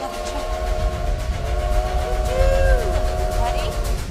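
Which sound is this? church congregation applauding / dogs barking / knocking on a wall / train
train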